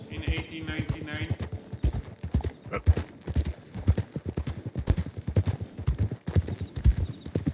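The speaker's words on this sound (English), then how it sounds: "Driving over the prairie on the horse in 1899." In Red Dead Redemption 2, a horse's hooves clip-clop rapidly across the prairie in a steady rhythm under continuous close talking by a man.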